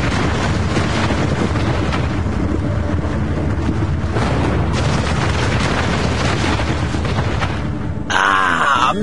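The Fat Man atomic bomb explodes over Nagasaki: a continuous loud, deep roaring rumble with blustering wind-like turbulence, sustained throughout and ending abruptly in a different sound.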